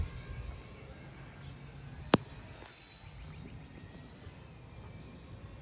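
A small RC helicopter motor whines steadily at a high pitch at full speed in a backyard, faint and constant, with one sharp click partway through.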